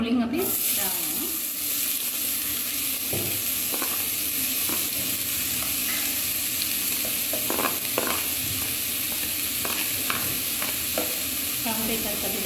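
Mustard seeds pop and onions fry in a pan as filling is made for fish buns: a loud, steady sizzle runs throughout, broken by scattered sharp pops and crackles.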